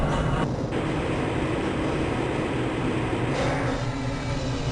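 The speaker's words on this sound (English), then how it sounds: "This train is inbound from the Area 8 topside dormitories to the Central Transit Hub in Area 9." The tram in the Half-Life: Blue Shift video game rolls along its track from the Area 8 topside dormitories toward Area 9, a loud, steady rumble and roar with shifting tones and no speech.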